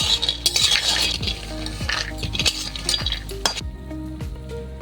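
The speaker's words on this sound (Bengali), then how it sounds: "তো ফাইনালি এই যে আমাদের বড়িটা ভাজা হয়ে গেছে।" Lentil dumplings (bori) fry in mustard oil while a metal spatula stirs them in the pan. A constant sizzle runs under repeated scraping and clinking strokes, close and fairly loud.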